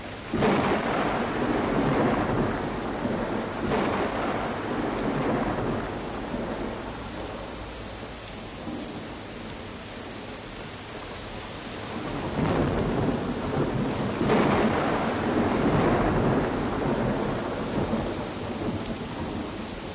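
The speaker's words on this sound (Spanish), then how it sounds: "Aunque llueve intensamente y los truenos resuenan en el ambiente" Heavy rain pours steadily over the Siena countryside of Tuscany near the Abbey of Sant'Antimo, with deep rolling thunder swelling several times through the downpour, loud and close, with no voices.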